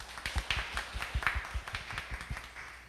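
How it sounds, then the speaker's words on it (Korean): A lecture-hall audience at a nutrition program presentation claps to welcome a university professor, steady overlapping hand claps at moderate distance and fairly soft, with no talking. "여러분 박수로 맞이해 주십시오."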